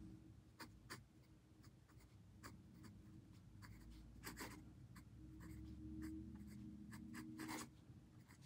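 A Diplomat fountain pen writing across paper, with a steady dry scratch and quick nib strokes and lifts. The sound is close and fairly quiet, with no voices.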